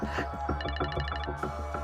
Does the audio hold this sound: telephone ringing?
yes